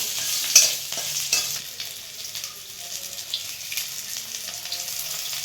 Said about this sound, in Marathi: लसूण आणि आलं हे छान भाजून घ्यायचं